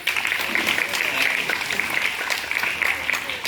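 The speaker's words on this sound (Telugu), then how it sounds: "క్లాప్స్ కొట్టండి" Applause for a guest at a school Republic Day celebration, a steady patter of many hands clapping throughout, fairly close and even, with a voice briefly audible amid it.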